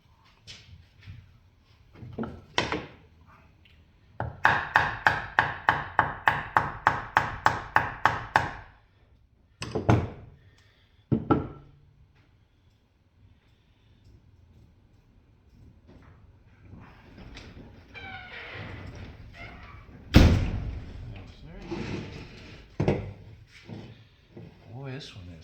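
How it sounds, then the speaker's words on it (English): Hammer blows knocking a stuck valve out of a Chevy 350 V8 cylinder head, a rapid burst of about a dozen sharp metallic strikes followed by a few scattered hits and clatter, with someone talking between them. "Now, let's see if I can knock that valve out."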